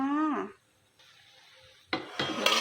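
Large salt-baked shrimp stirred in a hot pan: a voice speaks at the start, then after a quiet gap come loud, close scraping and clattering strokes with a faint sizzle underneath.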